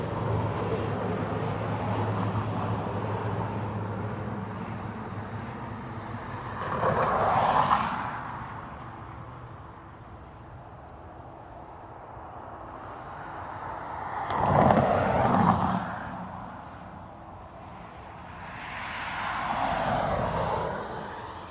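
Aircraft depart Dublin Airport, with three separate swells of engine roar and whoosh rising and fading in turn over a quieter background hum.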